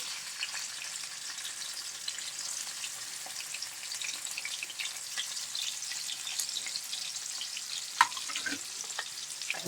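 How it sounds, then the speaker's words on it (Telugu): Onion pieces fry in hot oil in a kadai with a steady, moderate sizzle and crackle throughout, punctuated by a brief clink or stir near the end. "ఆయిల్ వీటెక్కింది. ఇప్పుడు ఉల్లిపాయ ముక్కలు వేస్తున్నానండి."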